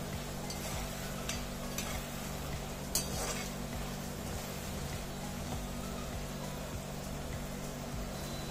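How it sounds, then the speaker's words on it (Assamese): Potatoes frying in hot oil with a dried red chili, five-spice seeds and salt, a steady dense sizzle running throughout, with a brief clink of a utensil against the pan midway. "এই আলুখিনি মই ব্ৰাউন কৰি ভাজি ল'ম"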